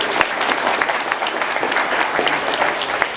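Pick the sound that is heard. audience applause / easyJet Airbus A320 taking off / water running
audience applause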